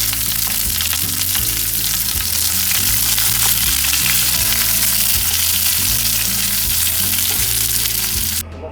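Chopped onions fry in hot oil in a pan as the base for a mutton masala, giving a loud, steady crackling sizzle with no talking.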